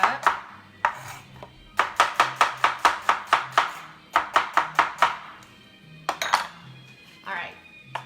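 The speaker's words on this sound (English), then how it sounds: "I'm just gonna cut my onions up." Knife chopping onions on a cutting board in a home kitchen, a quick run of sharp evenly spaced chops, then a pause and a second burst, with some clinks of dishes nearby.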